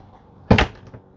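The door of a converted budget camper van shuts with a single loud, close thunk, followed by a brief faint rattle, with quiet surroundings before and after.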